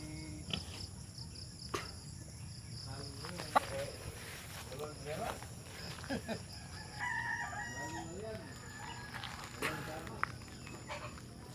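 A hatch gamecock rooster crows outdoors against a constant chorus of crickets and insects, with a few clucks and faint voices in the background.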